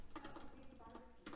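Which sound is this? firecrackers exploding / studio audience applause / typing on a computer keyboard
typing on a computer keyboard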